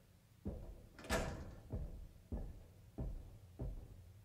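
Heavy knocks on a door in the Resident Evil 2 video game, six dull thuds spaced roughly half a second apart, close and fairly loud over a quiet background.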